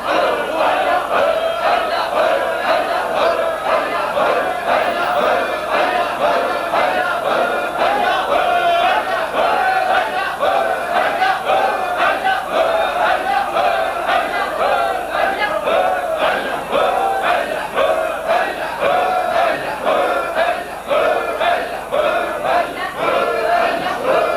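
Large crowd at an Urs gathering at Choora Sharif shouting responses to religious slogans, a dense, loud, continuous roar of many voices chanting in rhythmic waves without pause.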